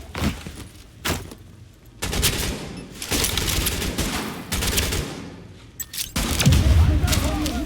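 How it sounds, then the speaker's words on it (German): A flashbang grenade goes off during a firefight in the shooter game The Division, among repeated bursts of gunfire and thumping blasts, with a heavy, loud detonation toward the end. "Ups, das war eine Blendgranate."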